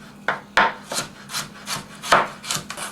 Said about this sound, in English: So now you got beautiful strips of carrot here now that we can just julienne.